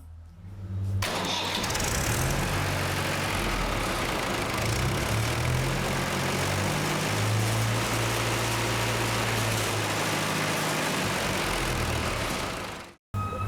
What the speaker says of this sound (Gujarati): એક્સિલેટર આપી અને એન્જિનની હાઈ સ્પીડ ઓપરેશન ચેક કરીશું